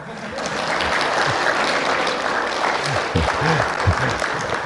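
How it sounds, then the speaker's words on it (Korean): Steady applause from an audience at a church lecture fills the whole stretch, dense and continuous, with a few voices talking over it near the end. "그러면 우리 박수로 시작하시겠습니다."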